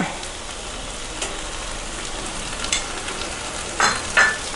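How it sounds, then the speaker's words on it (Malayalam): Kashmiri chili powder and garam masala sautéed in oil over a low flame for a Kerala-style chicken roast, giving a soft, steady sizzle with occasional scraping strokes of a spoon against the pan. "എന്നിട്ട് നന്നായി വഴറ്റുക ഇത് ചെറുതീയിൽ വഴറ്റിയെടുത്ത് എണ്ണ വേർപെടുന്നത് വരെ വഴറ്റുക"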